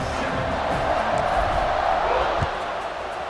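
A stadium crowd in the College Football 26 video game roars steadily at kickoff, a dense, continuous wash of cheering that holds for about three seconds with a faint thump near the end.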